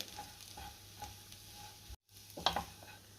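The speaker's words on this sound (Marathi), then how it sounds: "गॅसची फ्लेम मीडियमवर ठेवूनच मी खजूरसुद्धा चांगली परतून घेणार आहे" Dates are roasted in a pan over a medium gas flame for laddoos, with a quiet steady sizzle and soft rhythmic stirring scrapes, a brief cut and then a sharper scrape.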